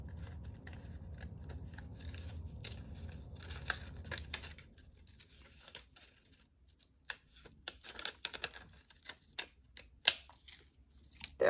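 Scissors fussy cutting paper for a junk journal, with repeated close, crisp snips and crinkling paper rustles in irregular bursts, a low hum fading early, with no talk.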